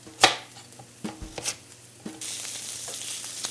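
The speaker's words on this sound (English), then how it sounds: "I'm going to slice it up into bite-sized chunks" Potato being chopped into bite-sized chunks on a board: a few sharp, close knife knocks spaced irregularly, followed by a steady sizzle of onions cooking in a pan.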